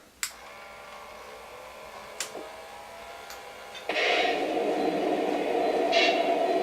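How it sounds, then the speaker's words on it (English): After a few clicks and clanks, a small electric motor whirs up and hums steadily as a model train starts moving. "Let's just move the train out."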